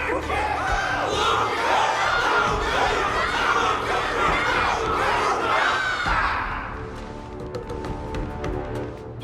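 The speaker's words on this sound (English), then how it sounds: "Can't you hear? Everyone's cheering for you, Luca!" A large crowd roars and shouts energetically in the video game Honkai: Star Rail for about six seconds, then the cheering drops away into quieter tones and clicks.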